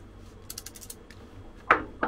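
Thin ratchet wrench cranked in a few quick bursts of small metallic clicks, close and fairly crisp, ending in a couple of sharper clacks.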